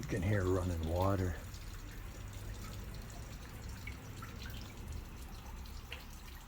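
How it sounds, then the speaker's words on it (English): Water trickles and drips steadily through an old Erie Canal stone-and-concrete culvert, faint and echoing, with someone speaking over it at the start. "You can hear running water."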